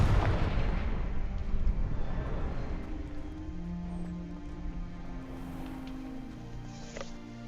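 Fiery Confringo spell blasts in the Hogwarts Legacy video game, with a loud booming burst up front that rolls into a rumbling, decaying roar and fades under lingering game ambience.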